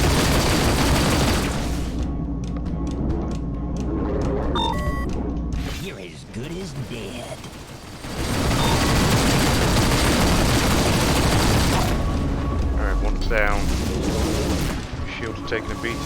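Space dogfight in Rebel Galaxy Outlaw: continuous rapid ship gunfire and heavy explosions roar loudly, dipping briefly in the middle, with in-game radio voices talking over the combat.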